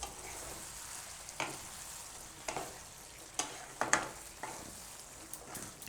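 Capsicum and onion curry cooking in a pan on a gas stove, with a faint continuous sizzle and occasional soft scraping clicks of stirring.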